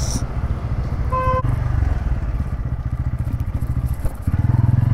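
A Bajaj Pulsar N160 motorcycle rides in and arrives at a house to park. The engine runs close and loud with a rapid pulsing thump, easing off briefly and then picking up again near the end.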